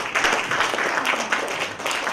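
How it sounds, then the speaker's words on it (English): A room full of people applauds a speaker at a speech event, steady dense clapping throughout at moderate level with no voices over it. "I think he deserves a huge round of applause."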